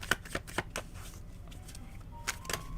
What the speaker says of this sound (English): I want to make sure I shuffle this really good.